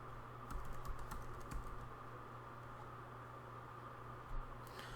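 Keys tapped on a computer keyboard while searching for a WordPress plugin: a quick flurry of close keystrokes in the first couple of seconds, then a lone tap, over a steady low hum.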